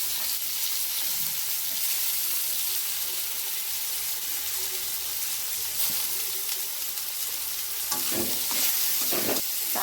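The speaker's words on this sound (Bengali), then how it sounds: "তো পেঁয়াজ কুচি দিয়ে দেবো প্রথমে।" Chopped onions frying in hot oil in a wok while a chole paneer curry is cooked. A loud, continuous sizzle runs throughout, with a few louder stirring scrapes near the end.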